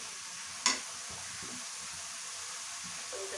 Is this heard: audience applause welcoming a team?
no